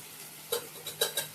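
Onion and tomato cooking in a pan for a Gujarati baingan bharta, heard as a few soft, separate clinks and scrapes of stirring against faint background hiss, with no talking.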